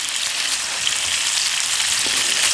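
Bacon-wrapped fillets sizzle over campfire coals at a state park campsite, a dense, steady crackling hiss that stays loud and close throughout with no voices.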